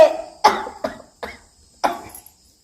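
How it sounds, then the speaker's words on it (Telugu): An elderly man coughs five times in harsh separate bursts, close and fairly loud, with short pauses of quiet between them. "ఏవో రోగాలకి ఈయన దగ్గుకుంటుంటది."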